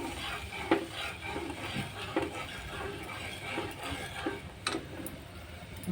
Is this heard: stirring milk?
yes